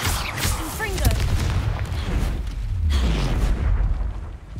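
Booming spell explosions in the Hogwarts Legacy video game, with heavy low rumbles and blasts layered under a voice talking over the action.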